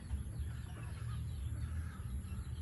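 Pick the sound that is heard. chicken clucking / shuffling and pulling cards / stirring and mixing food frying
chicken clucking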